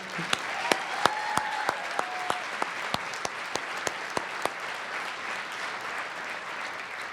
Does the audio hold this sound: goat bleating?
no